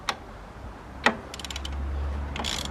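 A telescopic ratchet arm loosens a front brake caliper screw on a Citroën Xsara, giving a few sharp clicks and metallic ticks followed by a quick ratcheting rattle and a low mechanical hum, close and fairly quiet.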